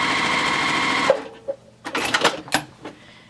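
A sewing machine runs steadily through straight stitching on a quilt block for about a second, then stops, leaving a few short clicks and handling sounds of fabric being adjusted.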